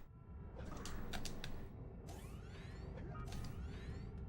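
Mechanical whirring and ratcheting of an elevator descending in a video game, a steady low rumble with scattered metallic clicks and rising swooshes throughout.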